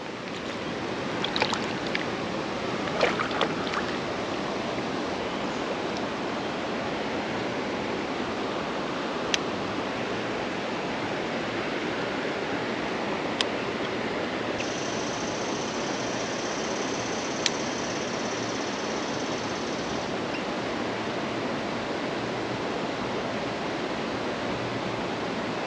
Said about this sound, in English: I like this river a lot.